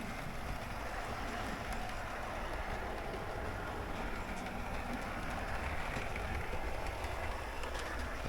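A vintage two-rail model railway Pullman train runs into a passing loop, a continuous rumbling, rattling wheel noise that stays fairly steady and close throughout, with no talking.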